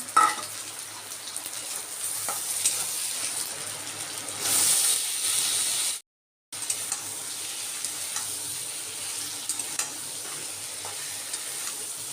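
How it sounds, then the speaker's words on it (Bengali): Steady sizzling and hissing of onion and shrimp frying in a pan, briefly louder midway, with occasional stirring scrapes and a short silent gap. "পেঁয়াজটা ভাজা হয়ে গেছে এরপর চিংড়ি মাছটা দিয়ে দেবো"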